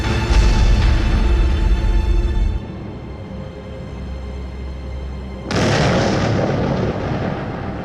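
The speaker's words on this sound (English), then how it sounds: "There's an explosion." A deep, rumbling blast in the video game Technobabylon, loud at the start and fading into a low drone before a second sharp burst of noise hits and sustains.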